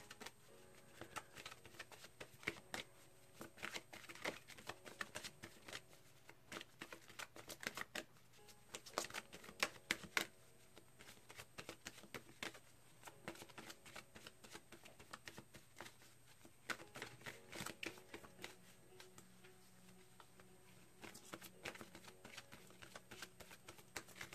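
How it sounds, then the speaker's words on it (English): Tarot oracle cards, a Romance Angels deck, are shuffled at length, giving a continuous quiet patter of card riffles and flicks with no talk. "let's pull a Romance Angels card from Doreen Virtue for Aquarius, Sun, Moon, Rising, and Venus"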